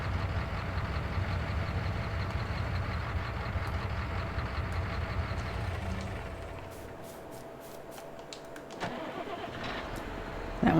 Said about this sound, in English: Love that engine sound.